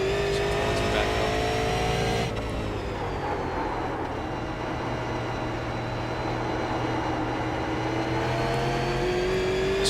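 A super late model race car drives laps at Thompson, its engine a loud, steady roar near the listener, the pitch dipping briefly and then holding high and constant throughout.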